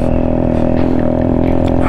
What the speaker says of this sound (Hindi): अब इसमें आवाज़ नहीं आ रही है बिल्कुल भी, और बस सिर्फ साइलेंसर और इंजन की ही आवाज़ है।